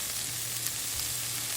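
Fried rice with vegetables being stirred in a hot pan, giving a brief, steady sizzle with soft scraping under it and no voices.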